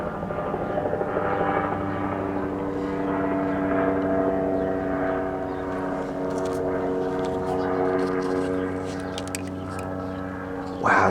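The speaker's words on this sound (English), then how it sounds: "Airplane in the sky" A propeller airplane drones overhead with a steady, tonal engine hum that holds through the stretch, swelling slightly in the middle, with no talk over it.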